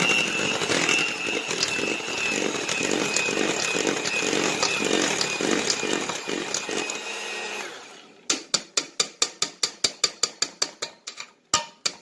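An electric mixer runs at its lowest speed, blending batter as flour is worked in. A steady whirring churn with a faint rhythmic pulse lasts about eight seconds, then stops, followed by a string of quick, sharp clicks.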